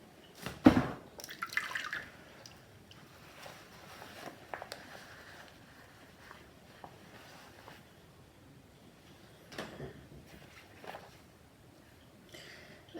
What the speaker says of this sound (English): I've got a washing up bowl of some Vanish. What I'm going to try and do is sort of like submerge his body